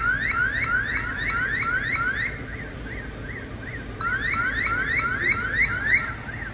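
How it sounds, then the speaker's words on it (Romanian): Alarms going off at a pharmacy and a bank during a street fire emergency: a loud repeating electronic siren sweeps in rapid rising-and-falling cycles, pauses briefly, then resumes over a low outdoor rumble. "Au pornit alarmele de la farmacie,"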